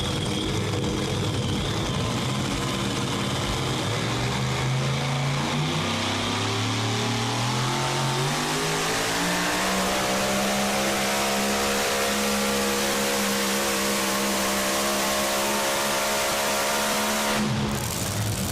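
Pulling truck at the OSTPA Holmes County Fair truck pull in Millersburg, Ohio, its engine screaming loud and close as the revs climb steadily over a long run before cutting off near the end.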